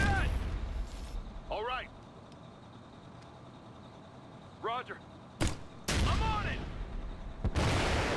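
Gunfire in the tactical shooter Ghost Recon Future Soldier on PC: sharp broadband shots, two or three loud cracks near the end over game ambience, with voices talking in between.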